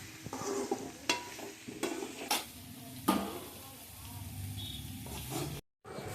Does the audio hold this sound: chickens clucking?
no